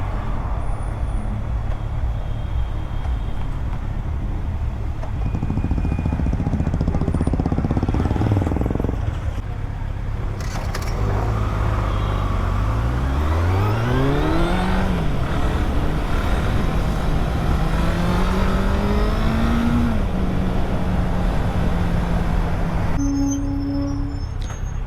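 A Kawasaki Z800 naked motorcycle is ridden at speed, and its steady engine drone rises and falls as it shifts through the gears, heard under heavy wind rush from start to finish.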